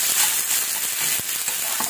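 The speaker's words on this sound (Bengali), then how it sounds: "এই কটা মশলা দিয়ে আমি ফ্রাই করে নিচ্ছি পেঁয়াজ টমেটোর সাথে" Onion, tomato and spices fry in hot oil for a tilapia curry, a steady close sizzle with faint stirring scrapes running throughout, no voices.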